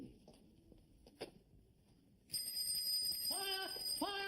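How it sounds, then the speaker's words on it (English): A bicycle bell rings in a busy department-store scene, a few bright metallic chimes coming suddenly over background murmur and rustle, then repeating in short bursts near the end. "That was a bicycle bell."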